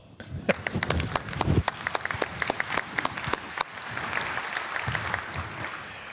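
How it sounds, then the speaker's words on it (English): An audience at an aviation security conference session claps steadily for several seconds, a dense patter of many hands close by with no voices over it. "Yes, we can applaud."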